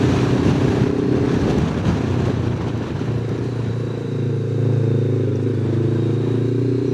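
Strong wind buffets the microphone on a steep road in Glen Lyon, a loud continuous roar with a low rumbling undertone that holds steady throughout.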